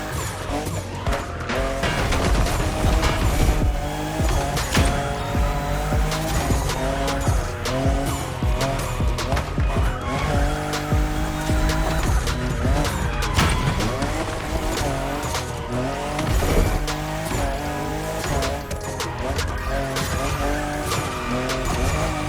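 A Toyota Supra, fifth generation, drifts in The Crew Motorfest racing game, its engine roaring steadily while tires squeal long and loud through the turns, with game music running underneath and no talking.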